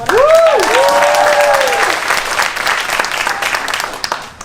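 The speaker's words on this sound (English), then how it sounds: "Can we have another round of applause for Andrews?" Audience applause at a one-act play performance, steady clapping from a crowd that swells at the start and gradually thins out, with a whistle-like tone sweeping over the first couple of seconds.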